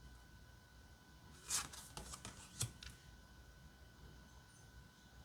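A deck of oracle cards is shuffled in a quiet room, giving a couple of brief crisp riffling bursts close by, followed by faint handling noises.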